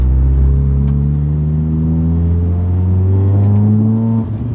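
Vauxhall Corsa VXR tuned to 406 bhp, its engine revving hard and loud up toward the redline in a rising whine, then cutting off abruptly for a gear change near the end.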